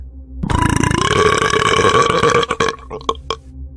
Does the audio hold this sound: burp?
yes